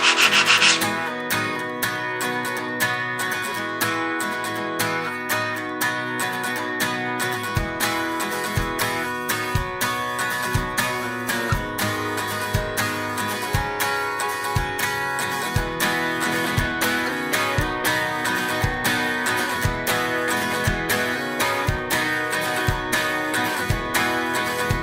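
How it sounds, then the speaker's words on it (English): Very fine sandpaper rubs over a wooden piece in steady, rhythmic back-and-forth strokes, each pass a close, dry scratching swish repeating evenly with no one talking. "It's a very fine sandpaper, but it'll still help to smooth everything out."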